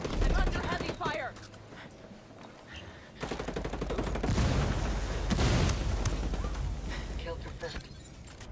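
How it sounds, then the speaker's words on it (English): Heavy automatic gunfire in the multiplayer shooter Ghost War, a sustained machine-gun rattle swelling through the middle of a tense exchange, with people talking over it. "I'm under heavy fire!"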